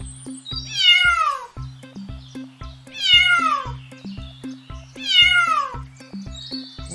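A cartoon cat in an animated Hindi story meows three times, each a loud, drawn-out descending cry, over a steady plucked musical backing.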